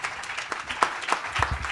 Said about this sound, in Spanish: También les pido un aplauso para ella, por favor.